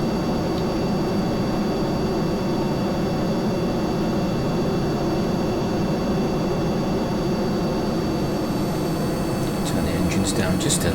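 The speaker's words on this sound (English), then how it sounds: "Turn the engines down just a little bit on that one. That's really noisy." Whiplash turbo ramjet engine on a plane in Kerbal Space Program, a loud, steady broadband roar with a constant whine that runs unbroken and close, rising slightly at the end.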